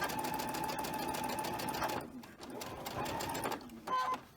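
A sewing machine runs steadily for about two seconds, stitching straight across quilt block fabric, then stops and gives a couple of shorter bursts, close and clear with faint background sound.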